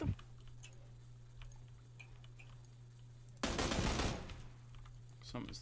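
Distant gunfire in the video game PUBG, faint scattered pops over a low hum, then a dense roughly half-second burst partway through and a last faint crack near the end.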